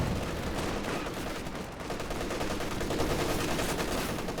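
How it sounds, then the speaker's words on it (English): Sustained machine gun fire in the World War II strategy game Company of Heroes 2, dense rapid rattling bursts from paired guns mixed with other battlefield gunfire, loud and continuous throughout. "Double machine guns are there, locking it down"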